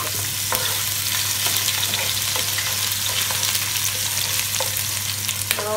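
Onion sautés in hot oil in a pan for chayote, Baguio beans and shrimp. A constant close sizzle is broken by occasional clinks of a stirring utensil, with no talk.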